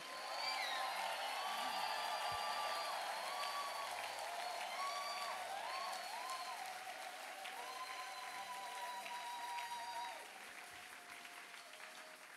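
A church congregation claps and cheers to acclaim the Lord during a worship service: dense, sustained applause fills the room, easing slightly toward the end.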